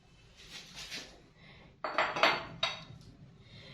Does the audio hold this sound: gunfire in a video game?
no